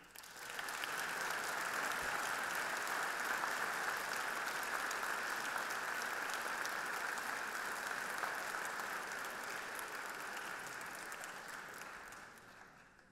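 Sustained audience applause fills a hall at an evening event as a speaker is welcomed, steady dense clapping that holds for about twelve seconds before tapering off, with no talk over it.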